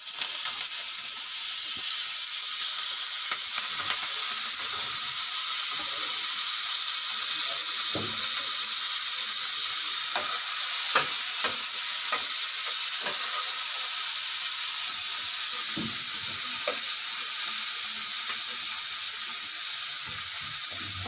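Fish frying in a pan, a steady hissing sizzle held for about twenty seconds, with scattered soft clicks and spattering pops over the continuous hiss.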